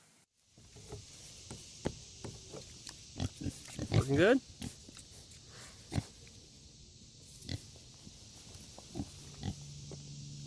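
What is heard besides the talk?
pigs oinking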